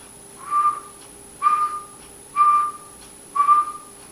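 A man whistles to imitate a Bigfoot whistle, four clear, evenly spaced rising-then-flat notes, each about half a second long, close and alone against a faint background.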